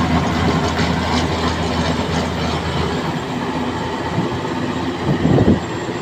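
A tractor-driven rotavator tills ground with its rotor packed full of soil, giving a loud, continuous, dense mechanical rumble and clatter throughout, with no talking.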